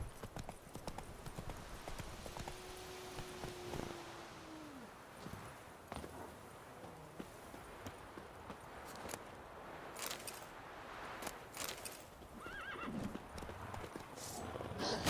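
Horse hooves clip-clop at a walking pace through The Witcher 3 as the rider urges the mount on, with a brief whinny and faint voices over a steady ambient bed.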